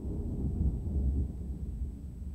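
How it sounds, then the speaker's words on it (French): Low, muffled thunder from a thunderstorm rolls steadily for a couple of seconds, a dull continuous rumble heard alone with no voices. "c'est l'orage"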